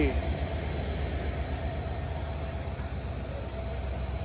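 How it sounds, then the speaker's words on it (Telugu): A steady, heavy rumble of the Kashi Vishwanath Express hauled by a WDG4 diesel locomotive, with continuous rolling noise and a low engine drone, loud and close. "WDG4 ఒక డీజిల్ లోకోమోటివ్ అయితే పుల్ చేస్తుంది మన ట్రైన్ని"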